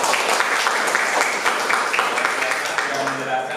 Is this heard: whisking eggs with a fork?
no